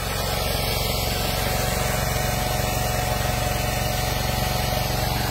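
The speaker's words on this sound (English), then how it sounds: "Now the well-spent tractor is going to make some bales." Pulling tractor running steadily while baling hay, a continuous droning engine hum with a fast mechanical pulse that holds at constant loudness throughout, no voices.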